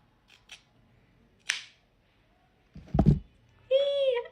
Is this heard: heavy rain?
no